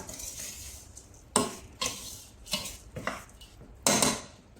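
Jaggery melting in hot ghee in a pan for methi ladoo, stirred with a spoon that scrapes and clinks against the metal in several sharp, separate strokes over a faint sizzle.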